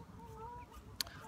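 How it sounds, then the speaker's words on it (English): Birds squabble faintly outdoors in the distance, with thin calls and a sudden sharp squawk near the end against soft ambient noise. "You can hear the birds over there fighting, I think."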